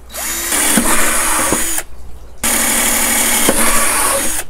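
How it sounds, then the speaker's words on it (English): A power drill whirs loudly through two bursts, briefly pausing between them, its motor pitch dipping as the bit bites into the plastic of a 5-gallon bucket. "we're just gonna drill in our holes."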